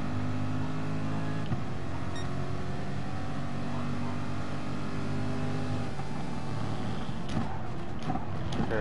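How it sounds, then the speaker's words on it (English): A Ferrari race car engine drones steadily in a racing video game, a continuous sustained whine with small pitch shifts as it moves through turns, loud and even throughout. "this Ferrari is quick coming into the turn, but not so quick on the way out"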